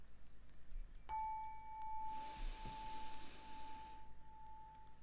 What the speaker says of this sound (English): So I'm gonna ring the bell a couple times.